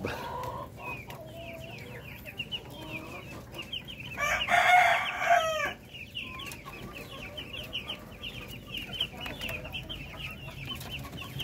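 Native Darag chickens and chicks on a farm cluck and peep softly in the background, and a rooster crows once loudly partway through.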